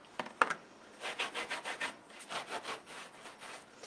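Stone paste artwork rubbed down with a dry cloth, a close series of rhythmic rasping strokes after a couple of light knocks, with no one speaking.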